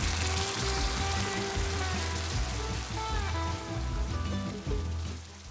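White wine hits a hot pan of bean base cooked with Cinta Senese lard, giving a steady crackling sizzle and spatter throughout, with a low thudding rumble beneath that fades toward the end.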